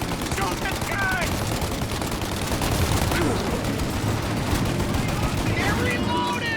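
Rapid automatic gunfire from a shootout in the video game Mafia: Definitive Edition, dense and continuous bursts at close range, with shouting voices cutting in over the shooting.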